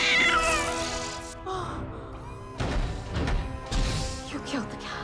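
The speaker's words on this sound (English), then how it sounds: "You killed the cat." A cat meows loudly and close in a Doctor Who episode, with a long drawn-out cry followed by shorter strained yowls and a couple of thuds amid scene sounds.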